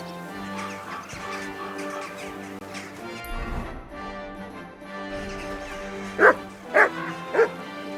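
A dog barks in the medieval video game Kingdom Come Deliverance II, three sharp close barks near the end following softer whimpering yips, set over background music.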